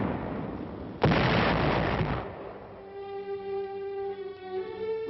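A WWII artillery barrage at the Anzio beachhead lands as one heavy, rumbling blast that lingers for about a second, then gives way to a quieter sustained tonal background.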